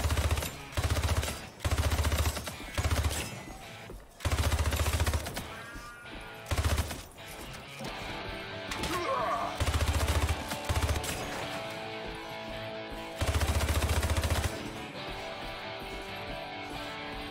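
Rapid bursts of gunfire from the shooter video game Hypercharge Unboxed, loud and repeated in short volleys over driving rock music, with some gaps between salvos.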